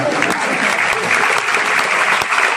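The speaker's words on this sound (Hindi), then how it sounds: "फिर तो एक बार ताली करो।" An auditorium audience at a gathering of local politicians bursts into steady, sustained applause, a dense wash of clapping that fills the room with no pause.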